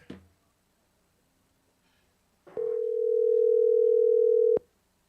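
A telephone dial tone sounds while a phone call is placed during a live podcast broadcast, a short click first, then a steady unbroken tone holding for about two seconds before cutting off abruptly.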